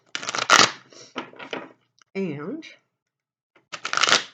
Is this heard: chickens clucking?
no